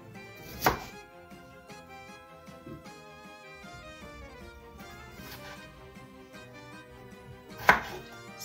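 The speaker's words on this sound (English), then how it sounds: "I'm just cutting them into quarters" A knife chops small potatoes into quarters on a cutting board, with two sharp, distinct chops standing out above soft background music and quieter handling sounds.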